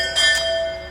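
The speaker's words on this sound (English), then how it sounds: "we've got the bells in the background" Church bells ring in the distance behind steady background ambience, a brief resonant peal with a couple of bright strikes that hum and fade.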